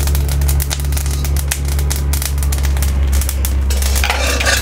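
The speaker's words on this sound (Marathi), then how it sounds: "आता शेंगदाणा भाजलेले आहे त्यामध्ये आपण आता थोडंसं तीळ पण भाजून घेऊयात आणि थोडंसं जिरं टाकूया." Peanuts, sesame seeds and cumin dry-roasting in a pan for stuffed bitter gourd, with a steady close scraping and rattling of seeds being stirred and a light dry crackle throughout.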